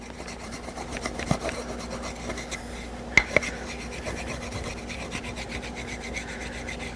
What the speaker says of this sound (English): So I'm just going to take it and rub the wax on the wood.